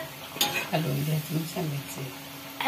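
Steamed papaya vada pieces drop into hot oil and fry, with bursts of bubbling sizzle and scraping stirs. Light clinks of a utensil against the pan come in uneven rhythm, close and moderately loud.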